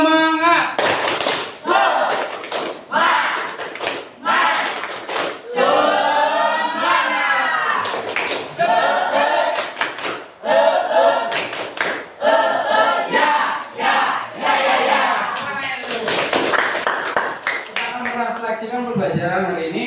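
A classroom of Indonesian schoolchildren performs a rhythmic spirit clap, with patterned bursts of hand claps in sequence mixed with loud group chanting and shouting voices, led by a teacher.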